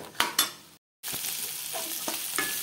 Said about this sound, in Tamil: ஸ்டவ் வந்து மீடியம் ஃப்ளேம்லேயே வச்சு நல்லா ஒரு ப்ரௌனிஷ் ஆகிற அளவுக்கு நல்லா ஃப்ரை பண்ணுங்கள்.